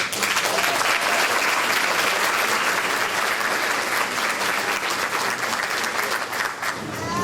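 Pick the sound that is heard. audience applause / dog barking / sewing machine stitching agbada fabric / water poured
audience applause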